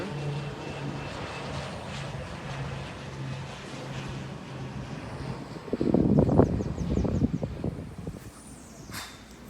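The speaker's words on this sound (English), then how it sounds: "You can see planes coming in because we are close proximity to the airport" Light aircraft passing close to an airport in Christ Church, Barbados: a steady propeller-engine drone under wind noise, swelling louder and nearer toward the end before trailing off.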